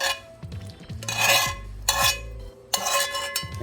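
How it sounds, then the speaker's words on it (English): Mushrooms, onions and grilled vegetables being stirred in a bowl with a utensil, giving a few bursts of wet scraping and clinking that come close up, with short pauses between strokes. "I'm going to mix them right in here, in this bowl."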